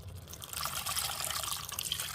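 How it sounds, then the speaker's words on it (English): Broth poured into a pot of thickening gravy with onions and mushrooms, a steady close liquid splash and trickle lasting about two seconds, with no voices. "I'm going to add some more broth."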